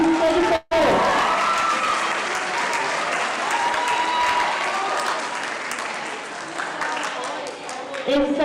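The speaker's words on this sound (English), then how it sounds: "please let's give a round of applause" Sustained crowd applause with light cheering for the 200m finalists at a school track and field finals, steady throughout after a brief cut near the start, with an announcer's voice faintly under it.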